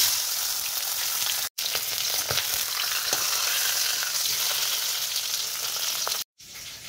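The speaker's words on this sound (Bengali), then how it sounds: "মাছের মাথাটা ভেজে" Fish head frying in a pan in a home kitchen, a steady close sizzle and crackle with faint spattering pops, interrupted by two brief silent breaks.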